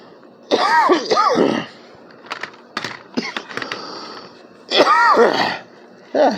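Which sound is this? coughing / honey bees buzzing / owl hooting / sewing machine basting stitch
coughing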